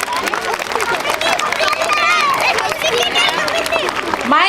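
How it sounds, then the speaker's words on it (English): Audience giving a standing ovation to chief guest Kapil Dev at a school event, dense loud clapping and crowd noise filling the whole stretch. "give a standing ovation to our chief guest, Mr. Kapil Dev, with a loud applause"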